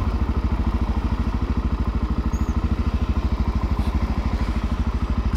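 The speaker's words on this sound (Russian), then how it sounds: "я на мотоцикле еду" A motorcycle rides through Tokyo streets, its engine throbbing in a fast, steady pulse close to the rider, with faint traffic hum behind and no talking.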